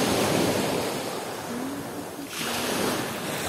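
Surf on the Sea of Azov rolling onto a beach, a steady broad wash of breaking waves with some wind noise, fairly close and continuous with no voices.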